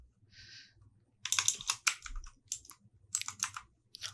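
Quick bursts of keystrokes on a computer keyboard, close and clear, arriving in clustered runs with short pauses, after a brief soft hiss at the start; no voices.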